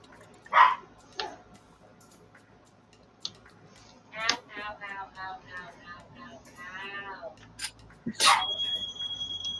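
Dogs in a house give several short barks and yips, with spaced bursts scattered across the clip and a louder one near the end, heard among people talking.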